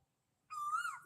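A single clear whistled Asian koel call rises after a moment of silence, a rising tonal note heard alone and moderately near.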